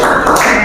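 Applause for the winner of a classroom quiz game: a short, steady patter of many hands clapping, loud and close, filling the brief moment.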